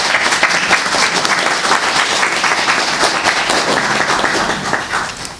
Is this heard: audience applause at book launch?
yes